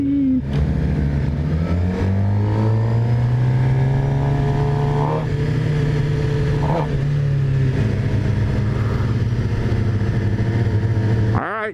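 A 2018 Suzuki GSX-R750 motorcycle engine revs loudly and steadily while riding, its pitch climbing and falling through gear changes with a continuous close, throaty drone throughout.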